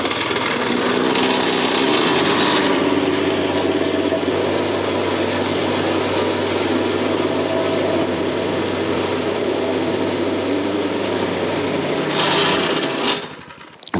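A Wacker Neuson compactor plate runs loud and steady at close range, a continuous engine drone with heavy vibration that holds for about thirteen seconds before cutting off abruptly at the end.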